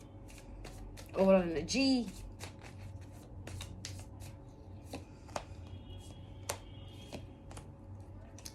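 Tarot cards being shuffled close by in soft, rapid riffles and taps, with a few sharper clicks, while a person speaks over part of it.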